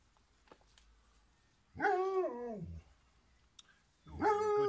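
Pet dogs in a garden give two bursts of whimpering, yipping barks separated by a quiet pause, fairly close and clear.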